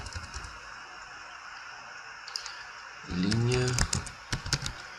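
Light clicking keystrokes tap on a computer keyboard, sparse and quiet, while someone speaks over them in Portuguese.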